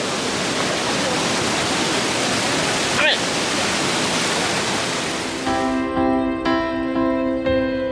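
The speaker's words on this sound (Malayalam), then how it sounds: "വെള്ളച്ചാട്ടത്തിൽ നല്ല വെള്ളം സ്പ്രേ ചെയ്യുന്നുണ്ട്." A big waterfall in Idukki sprays water in a dense, loud, continuous roar of rushing and splashing, with a brief burst of mist hitting close by and a higher electronic whine entering near the end.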